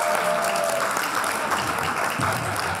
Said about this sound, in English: Please give a round of applause for me.